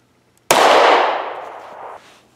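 An unsuppressed handgun fires once, a single sharp, very loud close blast followed by a ringing, slowly fading tail, with no voices.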